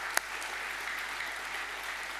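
An audience at a science talk gives a round of applause, a steady fairly distant clapping that runs the whole short stretch, opening with one sharper clap.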